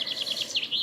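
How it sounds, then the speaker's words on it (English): Outdoor birdsong on a bright morning: a string of repeated high chirps and tweets, fairly close and steady, with a soft background hum and no voices. "you might be able to hear the birds singing"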